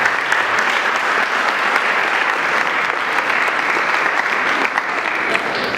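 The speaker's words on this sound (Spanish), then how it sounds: "Démosle un aplauso porque son invitados especiales." Steady, dense applause from an audience welcoming invited teachers from a Ñuñoa high school at an education debate, continuous and fairly loud for the whole stretch without letup.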